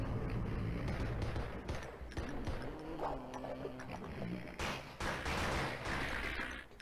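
Gunfire in the horror shooter game Blood and Bacon, a dense, loud, continuous barrage of shots and game effects with no pause, filling the whole stretch.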